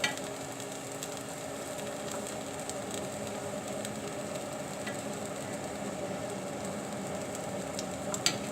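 Black bean burger patties fry in a pan, giving a steady, even sizzling hiss throughout with a couple of faint clicks and no talking.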